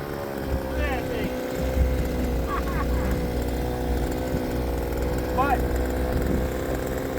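A small 2.3 horsepower outboard motor for a kayak runs with a steady buzzing drone like a weed whacker, close and constant throughout, while a voice speaks over it.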